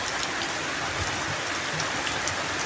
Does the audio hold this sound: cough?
no